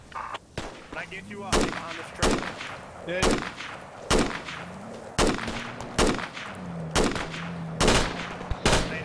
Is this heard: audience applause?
no